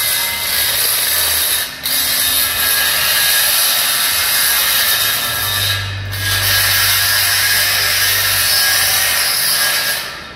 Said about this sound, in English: we like to ream out some of this powder coating and make the hole a little bit bigger than it is by about a 1/16